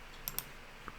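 Computer mouse clicks, two quick crisp clicks close together then a softer third click, faint and close in a quiet room.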